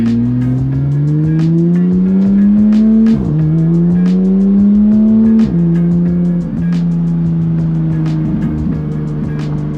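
A sports car engine revs up and drops back through repeated gear shifts, loud and close, with sharp bursts of tire squeal cutting through the steady engine drone.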